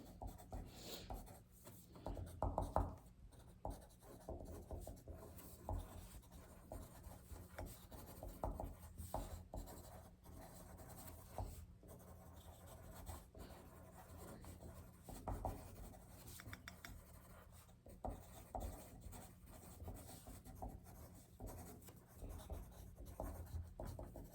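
A pencil scratches across paper in quiet, continuous strokes, soft and close for the full stretch, with only faint room noise behind it.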